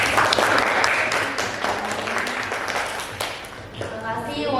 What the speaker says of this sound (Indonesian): beri tepuk tangannya untuk kelompok 3